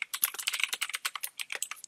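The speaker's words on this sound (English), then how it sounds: "I apologize, my keyboard is a bit loud" Loud computer keyboard typing at close range, a rapid, uneven run of sharp key clicks and clacks with short pauses, heard alone with no talking.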